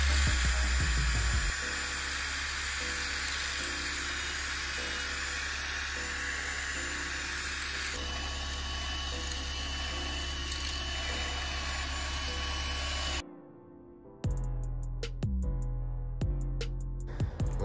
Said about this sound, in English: So your smallest drill bit, the 1/4" drill bit, you are going to drill all the way through the block.